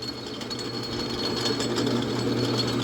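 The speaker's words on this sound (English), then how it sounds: "Now it's a lot noisier, and that just might be my lathe" An Atlas metal lathe runs slowly with its back gears engaged, giving a steady mechanical whir with a rapid, regular gear clatter that grows a little louder partway through. No one speaks.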